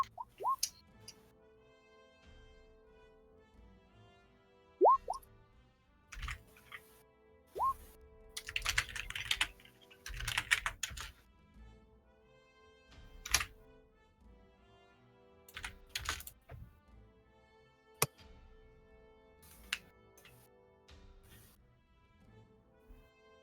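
Computer keyboard typing heard through another player's speaker during an online tabletop game session, scattered bursts of clicky keystrokes with sharp isolated taps and quiet gaps between them.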